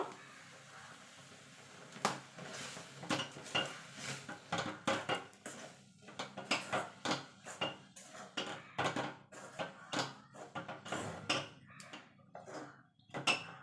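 A utensil stirs rice flour into boiling water in a pot, making a steady run of close, rhythmic scraping and knocking strokes against the metal, with no one talking.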